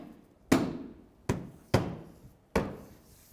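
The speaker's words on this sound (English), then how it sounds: "We'll give it a little hit." Four firm, dull thumps spaced about a second apart as a grille on a 2015-2019 Hyundai Sonata is knocked into place, each hit close and short with a quick decay.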